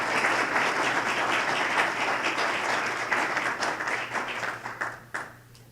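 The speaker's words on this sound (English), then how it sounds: "please join me in giving one more round of applause" An audience at an enterprise mobility panel event gives a dense, sustained round of applause that thins into scattered claps and fades out at the end.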